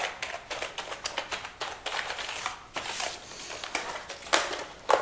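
Rapid clicking of keys on a reassembled computer keyboard, pressed in quick irregular bursts close up, with no talking.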